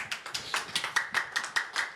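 Audience applauding in a conference room at a climate event for small businesses, a steady patter of many hands clapping close by for two seconds with no talk.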